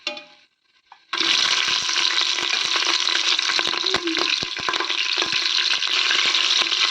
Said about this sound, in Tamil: பச்சை மிளகா சேர்த்திக்கலாம்.